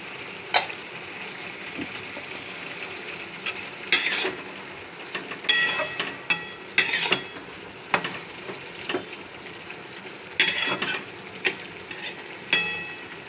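Peanuts fry with red amaranth leaves and poppy seed in a pan: a continuous soft sizzle broken by repeated sharp clatters and scrapes of a spatula against the metal, close and fairly quiet, with no talking.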